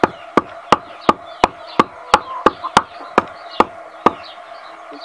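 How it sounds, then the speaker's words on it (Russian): Axe chopping grass on a rural plot, about a dozen sharp, evenly spaced thuds roughly every third of a second, close and distinct over quiet background. "Почему сказала рубить траву? Потому что реально рубить топором."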